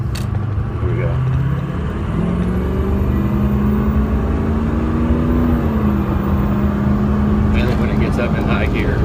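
Vehicle on a test drive accelerating and shifting up into high gear, a continuous loud engine drone whose pitch climbs steadily and then levels, heard from inside the cabin.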